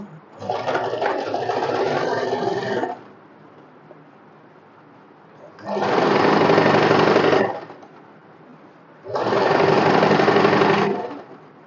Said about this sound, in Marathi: फक्त अस्तरवर मी शिलाई मारून घेते